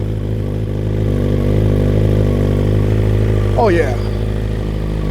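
A BMW M 1000 XR motorcycle fitted with a full titanium Akrapovič-style aftermarket exhaust idles loudly and steadily nearby, a deep throbbing rumble, while someone speaks briefly over it.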